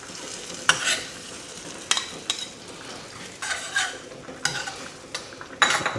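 Eggs and tomato stirred in a frying pan, with a quiet steady sizzle broken by several sharp scraping strokes of a utensil against the pan at irregular intervals.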